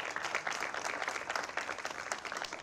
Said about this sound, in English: you can give a round of applause, sure.